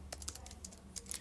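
Quick bursts of keystrokes on a computer keyboard while a Java command is entered in Visual Studio Code on Windows, close and fairly quiet, an irregular clatter of separate clicks with no talk.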